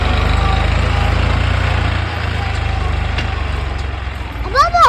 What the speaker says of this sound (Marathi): लय भारी नांगरीत आहे हे ट्रॅक्टर.